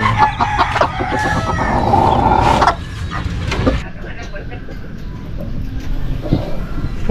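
Bantam chickens with their chicks, clucking and crowing close by, mixed with outdoor bustle and a person talking over them.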